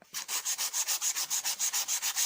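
Rhythmic back-and-forth rubbing on the oiled blade of cordless garden grass shears during cleaning, about a dozen even strokes, close and steady with no talking.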